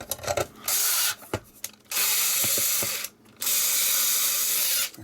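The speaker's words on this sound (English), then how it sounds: "don't tell me the screwdriver's running flat" An electric screwdriver whirs in three sustained bursts, driving screws into an Atari 2600 console, with brief mechanical clicks and handling taps in the gaps, close and clear with no talking.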